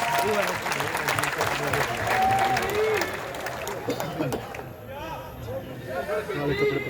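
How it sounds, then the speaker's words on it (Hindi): Loud, sustained applause from a large crowd at a Hindi comedy poetry gathering, a steady wash of clapping with some voices mixed in. "जोरदार तालियों के बीच।"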